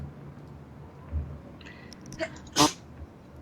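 A single sharp sneeze, brief and fairly close, in a quiet room after a couple of faint breaths.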